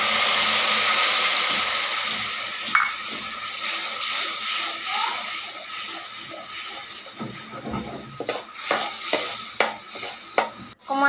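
Ground cumin paste, salt, turmeric and spices fry in oil for singara filling, with a loud hissing sizzle that slowly fades, then scattered scrapes and clinks of stirring near the end.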